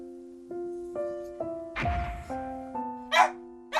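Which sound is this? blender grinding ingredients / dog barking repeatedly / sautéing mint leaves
dog barking repeatedly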